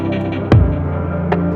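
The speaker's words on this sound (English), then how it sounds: "I am gonna add an echo delay on this just to see how it sounds." A beat built in Logic Pro plays with an echo delay effect added, a sustained droning pad and low hum with two soft percussive hits whose tails smear and repeat, steady and fairly loud.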